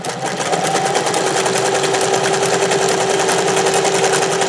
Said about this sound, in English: It can take long to overstitch that scallop to make it really nice.